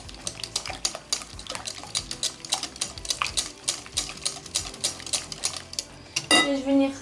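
A Monsieur Cuisine Smart food processor mixing génoise batter for a Yule log cake gives off rhythmic clattering knocks, then speeds up into a louder whirring rush near the end.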